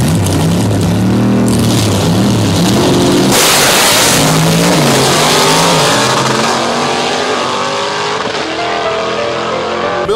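A 1955 Chevrolet gasser drag car roars loudly close by, its engine revving up and down in repeated surges with a harsh, rumbling exhaust note.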